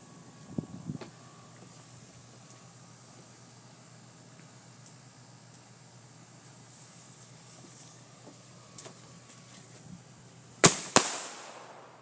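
Fireworks and a smoke bomb set off outdoors, a quiet stretch with faint crackles before two sharp loud bangs near the end, close by.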